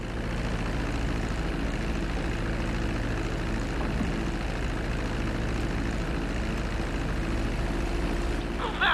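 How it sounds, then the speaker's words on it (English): A propeller airplane taxis on a runway in Grand Theft Auto V, its engine a loud, steady drone that holds unbroken throughout. "Now let's get the plane off the runway. Taxi over to the marked area and come to a complete stop."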